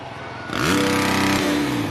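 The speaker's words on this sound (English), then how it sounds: "He's revving up that bike because he wants to hear you get loud." A dirt bike engine roars up sharply at an indoor Monster Jam arena event in Fresno, California, holding a high, loud revving pitch, rising then settling slightly, close and alone.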